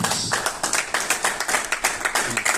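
Audience applause at a boxing weigh-in in San Diego, a steady burst of close, dense hand clapping with a slightly uneven rhythm lasting a few seconds.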